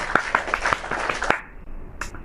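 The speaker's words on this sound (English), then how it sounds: "Let's give a clap for yourselves." Students in a classroom clap for themselves in a brief burst of scattered, uneven hand claps, moderately near, fading out after a couple of seconds.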